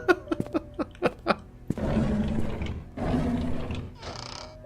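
Old wooden drawers slide in and out in the Painscreek Killings video game, each pass a rough, grinding rumble somewhat like a roar, two sustained strokes following a stretch of short clicks and taps.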